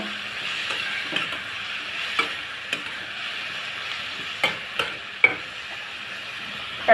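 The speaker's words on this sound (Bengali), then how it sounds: "ধনিয়ার গুঁড়া দিয়ে ভালো করে নেড়ে চেড়ে নিব" Egg, potato and cauliflower fry with turmeric, salt and coriander powder being stirred in a pan, a steady sizzle under scattered scraping clicks of a spoon against the pan, close and moderately loud with no talk.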